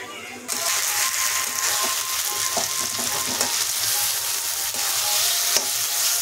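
Boal fish kalia masala slowly stir-fried in a covered pan, a steady close sizzle and crackle with soft intermittent scraping of a spoon, starting abruptly and holding even throughout.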